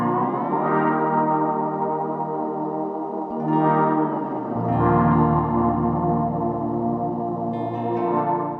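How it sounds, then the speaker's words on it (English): Lap steel guitar run through an H90 effects pedal with synth, reverb and delay; long sustained sliding chords swell and shift in pitch, lush and washed with echo, heard alone at moderate volume. "I love running this pedal through my lap steel"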